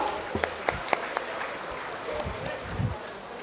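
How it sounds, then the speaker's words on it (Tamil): An audience of farmers at the inauguration of a chilli-processing production facility claps for several seconds: a few sharp, separate claps at first, then a moderate, steady round of applause. "ஒரு பலத்த கைத்தட்டலுடன் ஆரம்பிக்கலாம்."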